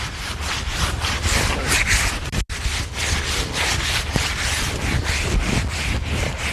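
Rhythmic rubbing strokes of sanding on a wooden staircase, steady back-and-forth scraping with a brief pause midway, close and fairly loud.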